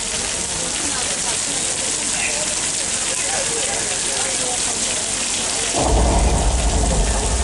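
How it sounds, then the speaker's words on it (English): Artificial rain from water sprayers on a film set, a steady broadband hiss of falling water that swells suddenly louder and heavier near the end, with no clear thunder crack. "Đấy là mưa đấy, chớp chớp đấy."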